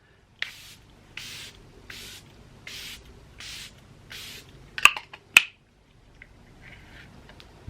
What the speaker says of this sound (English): now I can go with a setting spray.